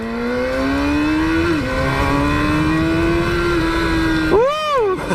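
Yamaha YZF R6 sport motorcycle ridden hard at high speed, with a loud sustained engine whine climbing steadily, a quick gear change partway through, then a sharp rev rise and drop near the end.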